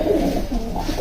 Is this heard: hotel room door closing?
no